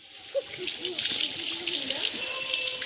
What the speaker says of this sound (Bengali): জল আসছে জল ধরতে হবে